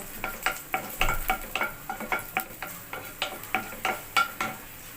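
Chopped garlic sizzles in hot oil while a spatula stirs it in quick, rhythmic strokes, with about a dozen distinct scraping pulses over a soft, steady frying hiss, close up and alone.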